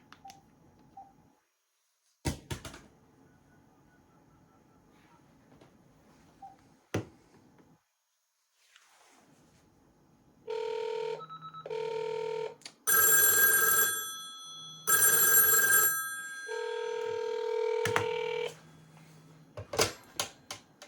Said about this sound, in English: So let's just call that phone to show you that it does work.